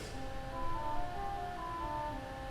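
A gentle, shimmering pipe organ voix celeste string stop sustains a couple of soft chords with a faint wavering beat, quiet and without voices.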